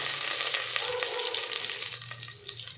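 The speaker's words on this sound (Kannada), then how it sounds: "ಇಲ್ಲಿ ಆನಿಯನ್ ಫ್ರೈ ಆಗಿದೆ." Onion frying in a pan for a palak methi matar pulao: a close, continuous crackling sizzle with light stirring scrapes, no one speaking.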